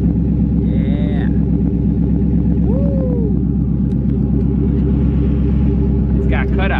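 A Dodge Challenger SRT8 idles with its exhaust cutouts open, putting out a steady, loud, deep rumble throughout, with a brief voice and a short rev-like flare near the end.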